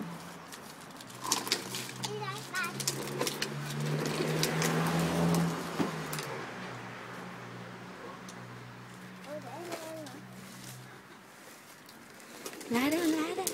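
Pigeons coo in soft, low repeated calls under the lively chatter of an adult and a small child, with occasional water splashes and bird chirps.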